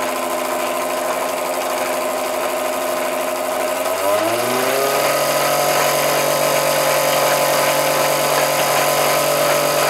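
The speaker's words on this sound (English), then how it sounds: "I wouldn't like to leave the motor running all day, not at that speed, certainly." A 1949 Meccano E020 20V electric motor of the cricket-ball type runs steadily, a loud close whine with strong harmonics that climbs in pitch and speed partway through, then holds a constant higher hum.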